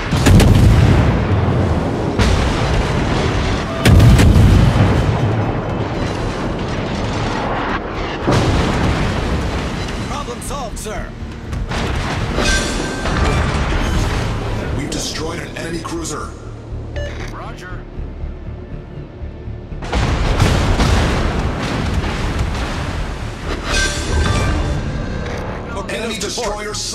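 A naval battle video game plays constant loud explosions, booming artillery and gunfire in dense, overlapping bursts, with a few heavier blasts, while a voice speaks over the combat.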